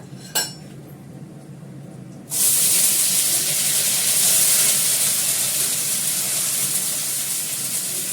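Onion paste hits hot oil in a pan with a sudden loud hiss after a small clink, then a steady, close, broadband sizzle that holds on without pause and with no voices.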